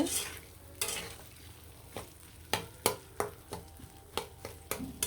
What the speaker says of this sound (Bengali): এভাবে কিন্তু আলুটা ভাজা ভাজা করে দিব মশলার সাথে একদম সুন্দরভাবে মিশিয়ে দিব